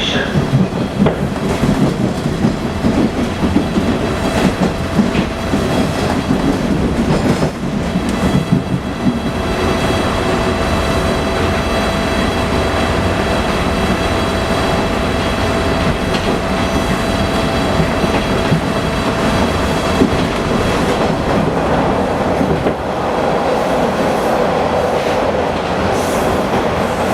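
A TTC Bombardier T1 subway train rolls between stations in Toronto, a loud, steady interior roar with rail rumble, clickety-clack and faint wheel squeal, heard close and continuous throughout.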